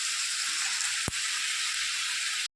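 Chopped onions frying in hot oil give a steady, close sizzle that holds evenly throughout, with one brief sharp tick partway through before the sound cuts off abruptly.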